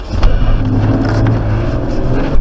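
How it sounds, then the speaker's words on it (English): A car on the road, struck in an intentional hit-and-run collision; a loud, close, steady engine-and-road rumble with scraping and a couple of sharp impact-like bursts near the start and end, no talk. "We just got hit and ran"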